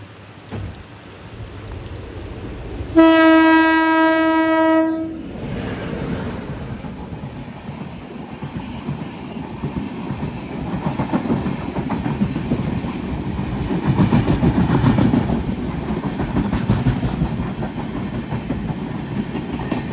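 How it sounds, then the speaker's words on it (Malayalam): A superfast express from Thiruvananthapuram North to Porbandar passes a station crossing, opening with a loud horn blast before a long rumbling roll of wagons and clattering wheels close by, with rain-like hiss throughout. "തിരുവനന്തപുരം നോർത്ത് നിന്ന് പോർബന്തറിലേക്കുള്ള സൂപ്പർ ഫാസ്റ്റ് ഇപ്പം ഇതുവഴി കടന്നു വരും"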